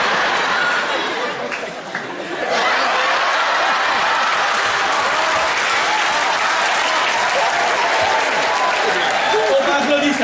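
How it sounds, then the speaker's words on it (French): Theatre audience applauding at a comedy show at the Casino de Paris, a brief dip early on and then sustained, full-room clapping mixed with scattered chatter and light laughter. "Faut pas applaudir ça, pas applaudir."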